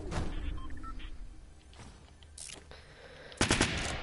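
Gunfire rings out in Fortnite Battle Royale: loud bursts open, then sporadic shots, then a final rapid burst, all fairly close, with no talking.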